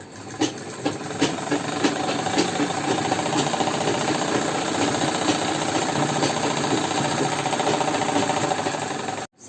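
A sewing machine runs steadily while stitching a Patiala salwar, its fast mechanical chatter lasting the whole stretch at close range, starting with a few short bursts before settling into continuous running and stopping abruptly.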